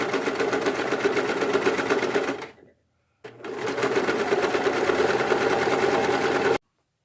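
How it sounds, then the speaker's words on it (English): Sewing machine running a zigzag stitch on knit fabric leggings, a fast rhythmic whirr in two close bursts with a brief stop between, loud and alone. "For the outside, we just need a zigzag stitch"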